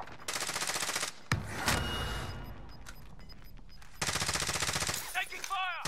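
Bursts of rapid automatic gunfire ring out in a military shooter video game, loud rattling volleys at the start and again near the end, with a sharp close shot between them and radio-style chatter in the background.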